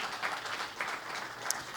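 A crowd applauding at a panel talk on jobs, entrepreneurship and higher studies, heard as a steady, moderately distant wash of many hands clapping with no voices over it.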